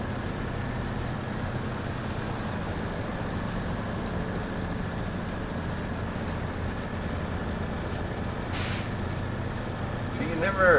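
Off-road vehicle engine chugging in low gear near Lake Ribiere, Quebec, a steady, even drone with a constant hum, running on without a break, joined by a brief hiss and a rising sound at the end.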